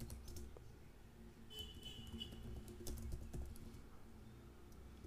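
Soft, quiet clicking of fingers typing code on a computer keyboard, irregular bursts of keystrokes close up against a low room hum, with no talking.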